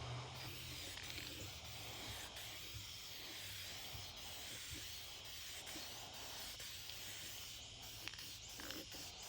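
Spray gun painting an aluminum valve cover outdoors, giving a steady, continuous hiss that runs unbroken for the full stretch, close and even in level with a faint low hum beneath.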